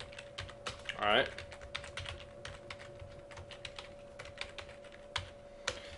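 Rapid typing of code on a computer keyboard, a quick run of close, light key clicks with a short spoken remark partway through.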